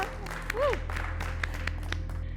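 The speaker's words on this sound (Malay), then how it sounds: "Beri tepukan semangat pada mereka ya" Scattered applause for contestants on a cooking competition finale, sparse individual claps over a low steady hum, with a brief rising-falling voice-like tone early on.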